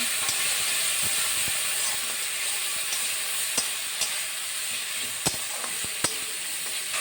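Spices with turmeric and water frying in a pan for a fish curry, a steady dense sizzle with a few sharp spatula clicks and knocks over it, close and alone.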